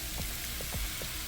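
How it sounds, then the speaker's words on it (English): Squash hisses and sizzles in a pan of hot olive oil, a steady close-up frying crackle with a few soft stirring thumps. "a little bit of olive oil to get things sizzling again"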